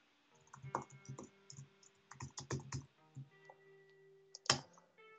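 Typing on a computer keyboard in quick irregular bursts of clicking keystrokes, close and fairly quiet, with short pauses and a final louder key press.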